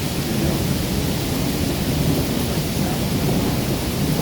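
Strong wind roars on a homestead under a cloudless sky, a continuous, loud broadband rush, steady for several seconds with no voices.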